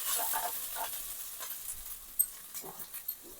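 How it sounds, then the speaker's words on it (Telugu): Ginger garlic paste fries in a pan with a soft, steady sizzle, and faint stirring scrapes and taps are heard close by. "అల్లం వెల్లుల్లి పేస్ట్ అయితే చక్కగా వేగిపోయింది"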